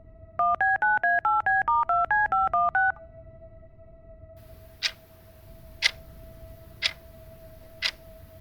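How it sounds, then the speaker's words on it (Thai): A phone keypad sounds a rapid run of about eleven evenly spaced dialing tones while calling the police, then a steady tone holds with four sharp, regularly spaced ticks. "บาสรีบดึงโทรศัพท์ออกมา พบว่ามีสัญญาณแล้ว เขารีบโทรหาตำรวจ"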